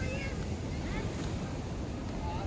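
Sea waves roll in at the shore, a continuous rushing wash of surf mixed with wind noise, with faint voices in the background.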